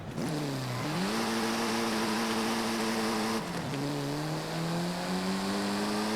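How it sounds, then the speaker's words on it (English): A front-wheel-drive car launches hard from a standstill toward 60 mph in Forza Horizon 5, its engine note climbing steadily, dropping briefly at a gear change near one second and again around three and a half seconds, loud and continuous. "let's launch it and see how quick this can get to 60."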